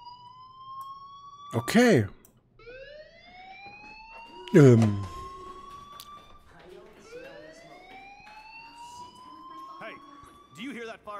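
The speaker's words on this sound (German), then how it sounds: "Hey, do you hear that fire alarm?" Repeating rising electronic whoops of a fire alarm inside a school in the video game Life is Strange, sounding in a steady cycle behind louder voices that talk over it.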